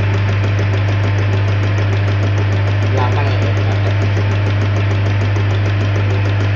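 A diesel engine driven by a Panther 25 injection pump runs at a loud, steady drone with a strong low hum and an even, rapid knock during calibration.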